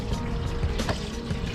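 Coolant pours out of a Miata's radiator in a steady, continuous gush, a loud and close splashing flow with no break.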